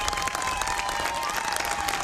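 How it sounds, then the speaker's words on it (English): Hundreds of people lining a clap line applaud without pause, a dense, steady wash of clapping close by and all around, with a faint crowd murmur underneath. "They wind through a clap line, hundreds helping to send them off in style."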